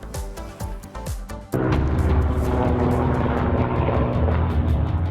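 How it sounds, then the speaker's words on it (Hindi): An MI-17 helicopter airlifting another helicopter near Kedarnath: a loud, steady rotor and engine roar that swells abruptly partway in and then holds a dense, pulsing drone. "दरअसल इसे MI-17 हेलीकॉप्टर के जरिए एयरलिफ्ट किया जा रहा था।"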